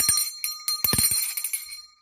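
A bell struck several times in quick, uneven succession, bright metallic rings with short decays separated by silent gaps, close and clear with no talk over it.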